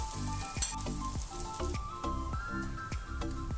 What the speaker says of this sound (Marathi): आता पलटून घेणार आहे या साईडने पण दुसऱ्या साईडने पण छान खरपूस भाजून घ्यायचा आहे